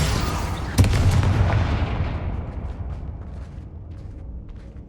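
A Confringo explosion spell in the Hogwarts Legacy game: a sharp blast followed by a deep, loud rumbling boom that slowly fades over several seconds.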